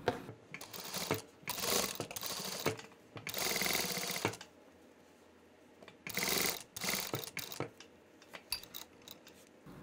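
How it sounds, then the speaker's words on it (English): A sewing machine stitches a quarter-inch seam around a fabric face mask, running in several bursts of rapid needle whirring separated by short pauses, close and fairly quiet. "Now we'll be sewing all around with a 1/4 inch seam"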